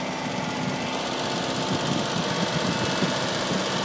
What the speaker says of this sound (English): It's a four-cylinder A12 Datsun engine, about a 1972.